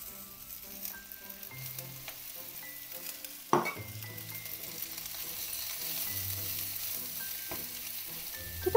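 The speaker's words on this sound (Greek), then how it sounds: "Και τα τσιγαρίζουμε." Mushrooms sautéing in four or five tablespoons of oil after being added to a pot make a soft crackling sizzle, with a sharp clatter midway and utensil knocks near the end.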